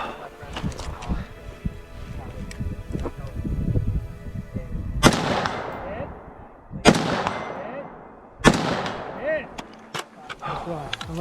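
Gunfire at steel targets during a 2-gun match, with single shots from standing and kneeling positions: a busy stretch of close shots and pings gives way to three loud, sharply separated reports near the end.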